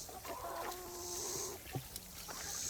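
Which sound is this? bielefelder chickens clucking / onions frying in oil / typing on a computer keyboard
bielefelder chickens clucking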